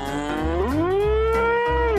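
A cow moos loudly and close by in one long, drawn-out call that rises and then holds steady, with no voices.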